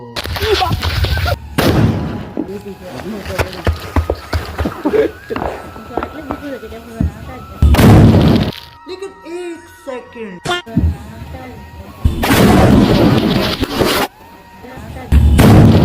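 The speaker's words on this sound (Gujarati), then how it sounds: "રસ્તામાં ખાડો કરીને અંદર મૂકી દીધો. સુતલી બમ ને સળગાવી પણ દીધો." A sutli bomb firecracker set in a pit dug in a road during Diwali goes off in loud, sharp booming blasts, a few spread across the stretch amid nearby talk and outdoor background noise.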